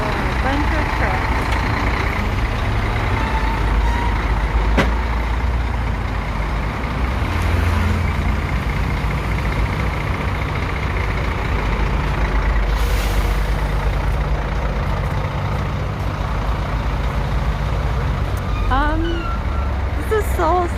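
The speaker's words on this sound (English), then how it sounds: "Just a bunch of trucks." Trucks pass along a busy street in Seoul's Gangnam district in the morning, a loud continuous roar of engines and rumbling traffic with an air-brake hiss and occasional faint beeps.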